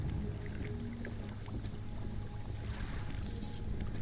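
A boat engine in the fishing video game Dredge drones steadily, a low continuous hum running unbroken throughout with no speech.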